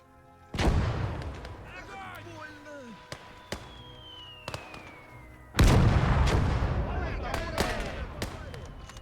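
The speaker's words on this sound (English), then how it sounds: "I'm pretty sure the mortar team is firing" Mortar artillery fire in the World War II video game Gates of Hell: two heavy booming blasts a few seconds apart, loud and close, with sharp gunfire cracks and a whistling shell between them, under a busy battlefield din.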